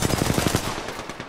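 Rapid automatic gunfire from the video game Apex Legends rattles in a fast, even burst of shots, loud at first and then tailing off, with no one talking.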